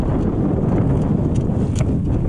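Strong wind beside the Vistula river on an abandoned railway line, buffeting the microphone as a steady, loud broadband roar with no talk.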